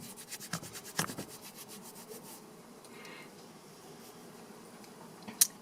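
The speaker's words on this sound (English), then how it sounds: "so I'll rub on that lump." Felted wool yarn ends are rubbed together by hand, a soft rhythmic scratchy friction in quick repeated strokes that gradually settles into a faint steady rubbing, with one sharp tap near the end.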